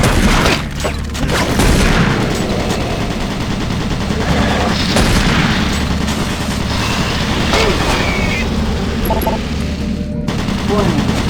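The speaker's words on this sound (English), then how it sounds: "Warning. Automated turret guns online." Automated turret guns in Doom 3: BFG Edition unleash sustained rapid machine-gun fire, loud and close, with heavy booms layered in and a synthetic warning voice speaking over the barrage.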